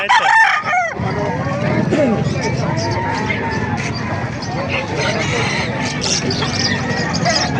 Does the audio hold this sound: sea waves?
no